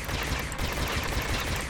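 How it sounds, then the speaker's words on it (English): A grenade launcher in Space Robinson fires as rapid, dense, overlapping thuds and bursts, a steady loud barrage with no pause, close and continuous. "I must have been firing a different ammo type with the grenade launcher"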